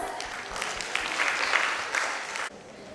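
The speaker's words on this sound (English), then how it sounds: "Please welcome Anav with a huge round of applause." An audience applauds to welcome a young performer about to chant shlokas at a Kumon ceremony, with dense steady clapping that fills the room and then drops off sharply near the end.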